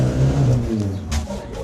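A car roars away at speed just after its engine was fixed, revving hard in a village as if on a racetrack; the loud engine note climbs and shifts through the short burst, with no voices.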